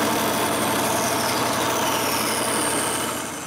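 A bandsaw runs steadily at a loud, constant hum while cutting small wooden box button pieces, the blade whine and motor drone unbroken, dropping slightly at the very end.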